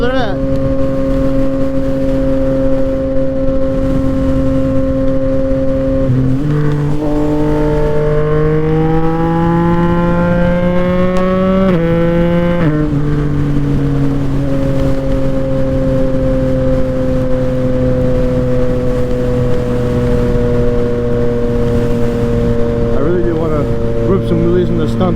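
A Yamaha MT-09 motorcycle rides along a road, its engine holding a steady loud drone with a brief rise in revs near the middle before settling back to cruising.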